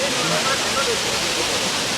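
Kudlu Teertha Falls, a waterfall, pours in a steady broadband roar that fills the whole clip evenly, loud and continuous, with faint traces of voices mixed into the rush of water.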